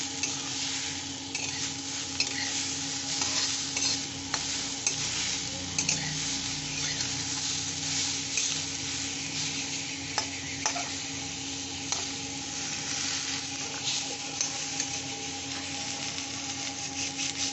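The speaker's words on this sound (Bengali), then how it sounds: "আমি মশলাটা দিয়ে দিয়েছি, এখন দিয়ে নাড়ছি।" Spiced watermelon rind fries in a pan with a constant soft sizzle as a utensil scrapes and stirs it, giving occasional light knocks, close and even in level, with no talking.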